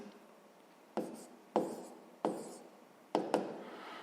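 Pen or pencil strokes on paper while working out a sixth-grade math solution, four or five short scratchy bursts with brief pauses between, soft and close in a quiet room.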